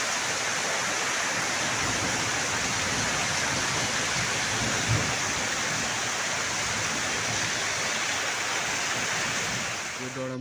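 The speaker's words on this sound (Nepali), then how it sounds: "अहिले पनि पानी चाहिँ पर्दैछ है" Rain falling at night and water pouring from a spout make a dense, continuous rushing hiss that stays steady and fairly faint throughout, with no clear voices.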